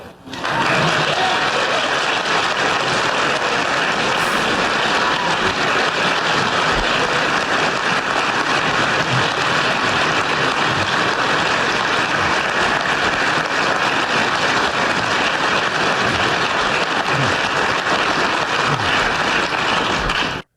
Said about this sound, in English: I told Cookie not to edit the applause down to the usual 3 seconds